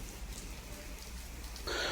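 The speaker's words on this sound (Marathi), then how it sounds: "अवकाळी पाऊस पडतोय" Unseasonal rain falls in the Indapur area amid strong winds, a steady faint hiss of rainfall with a brief louder patter near the end.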